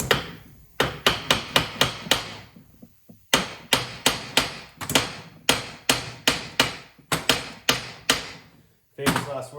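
A hammer taps repeatedly on an engine part of a 2002 Suzuki Carry during teardown, loud sharp metallic strikes in quick bursts of four to six with brief pauses between.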